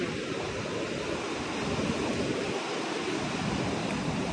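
Sea waves wash onto a beach in Goa as a continuous loud rushing surf that fills the background steadily without a pause, and no voices come through.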